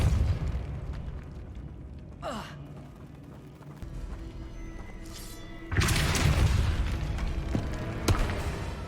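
Casting the Depulso force-push spell in Hogwarts Legacy gameplay produces a quick swooshing whoosh, then a loud, sustained burst of blasting energy over a steady background hum.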